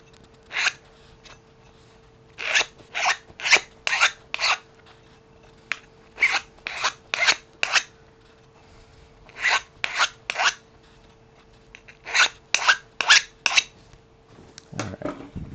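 A file rasps along a metal edge to bevel it for wind chimes, close and loud in quick bursts of three to five strokes separated by short pauses.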